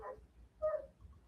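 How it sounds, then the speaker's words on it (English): The neighbor's dog sounds off in the distance: a couple of short, muffled yips or whimpering barks, faint and spaced apart, with no talking over them. "that's the neighbor's dog making all that noise"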